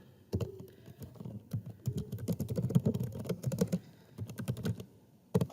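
A number is typed into a calculator on a keyboard as a quick run of close, light key taps that form a busy patter before a short pause and a few final presses.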